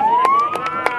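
A siren at an outdoor school tree-planting event with a minister and hundreds of pupils rises smoothly in pitch, loud and close, while brief sharp knocks and clatters punctuate it.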